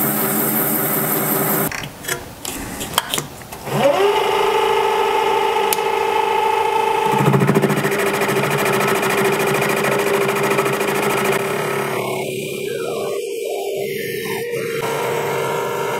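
A Harbor Freight mini mill with a brushless motor upgrade and motorized carriage cuts metal. Brief clattering handling noises give way to a steady, close motor whine and hum that carries on to the end.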